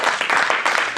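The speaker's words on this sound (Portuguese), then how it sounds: "Aplauda o Senhor Jesus" A church congregation applauding, a dense, steady wash of many hands clapping together, loud and close, with no voices standing out.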